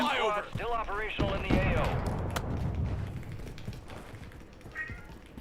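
A cat meows several times in quick succession with rising, wavering cries, then noisy background clatter and faint voices follow, during Call of Duty Warzone gameplay.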